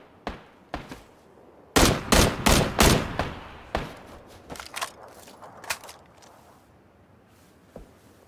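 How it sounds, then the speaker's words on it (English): Loud, close gunfire in the video game PUBG Battlegrounds: a few scattered shots, then a tight cluster of heavy bursts, tapering into sparse, fainter shots over quiet background. "Keep shooting each other."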